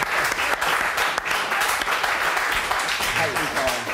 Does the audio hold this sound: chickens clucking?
no